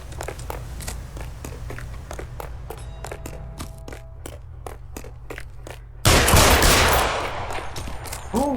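Gunfire in the L.A. Noire video game: a steady string of sharp, evenly spaced shots, then a louder, denser burst of fire near the end.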